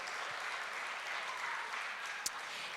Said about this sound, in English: can you give another round of applause for the Old Church?